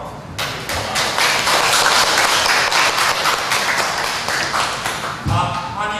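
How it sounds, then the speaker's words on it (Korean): A church congregation at a Sunday service applauds for the pastor, with loud, dense clapping that swells quickly and tapers off, followed by a voice at the end. "박수"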